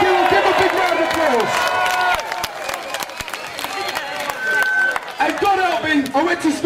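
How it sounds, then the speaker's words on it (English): A crowd at a street demonstration in Tower Hamlets claps, whistles and cheers in a dense, sustained burst, with a loud amplified voice speaking over the applause. "Give them a big round of applause"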